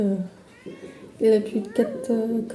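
A cat meows repeatedly from a phone video being played back, several drawn-out tonal cries with a person speaking over and between them.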